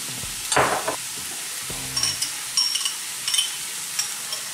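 Sauces being stirred in a hot pan over a low gas flame for Chinese bhel: gentle sizzling with a spoon scraping and clinking in a few short strokes, close and clear, no talking.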